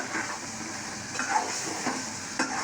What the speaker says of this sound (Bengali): এই চুলায় বসায় দিচ্ছি মিষ্টি কুমড়া